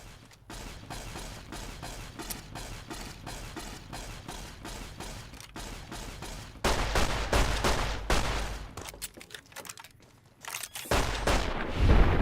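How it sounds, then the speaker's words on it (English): Rapid gunfire rattles through Fallout New Vegas in dense, continuous bursts that surge louder partway through, with a brief lull before a final heavy volley; no talking. "I'm just getting fired on."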